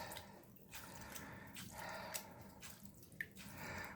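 Water drips and trickles from a dirty aquarium filter sponge squeezed out by hand, making soft, faint, uneven splashes and patters with no talking.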